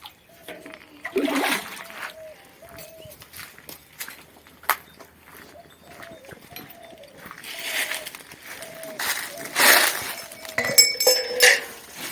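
Water splashes and pours in a few bursts as cows are given water at night, with clinks and shuffling steps and a repeated tonal squeak in between.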